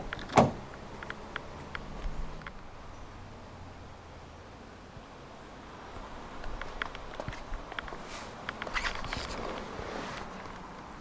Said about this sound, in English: To lock the car, press the black button on any of the front door handles